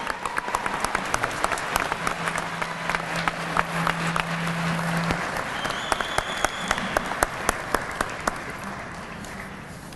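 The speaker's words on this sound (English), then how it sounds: "let's give the graduates of Class 237 and Citizens Police Academy 23 a round of applause" Crowd at a police recruit graduation ceremony for Class 237 and Citizens Police Academy 23 applauding the graduates, sustained dense clapping with a few sharp nearby claps standing out and a faint tone in the background.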